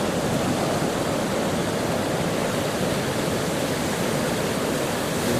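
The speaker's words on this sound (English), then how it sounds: "As the river speeds up and goes out into the sea" The River Carron at Stonehaven, Scotland, roars as it rushes out into the sea, a steady, loud broadband wash of fast-flowing water that stays constant throughout with no voices.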